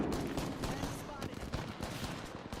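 Gunfire in Apex Legends, dense and loud: rapid bursts of shots overlapping in a busy firefight, with voices partly buried in the noise.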